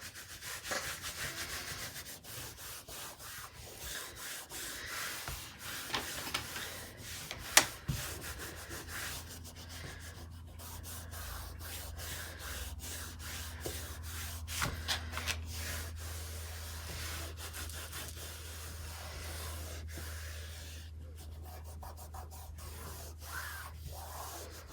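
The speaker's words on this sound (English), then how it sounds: "I'm going to flip that over and just rub it from this side." Steady rubbing of paper against a planner cover, a soft continuous scratchy friction with small bumps and a low hum underneath, close and quiet.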